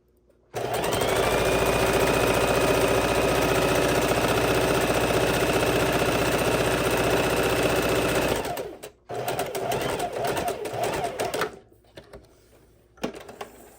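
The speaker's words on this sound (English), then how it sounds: "we are going to sew our 1/4 inch seams" A sewing machine stitches quarter-inch seams on a quilt, running in a loud, steady whir for about eight seconds, then in shorter stop-and-start bursts before falling quiet.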